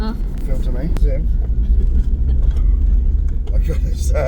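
A car drives over rough ground near a volcano, its engine rumbling low and continuous with bumps and rattles from the cabin while people talk inside.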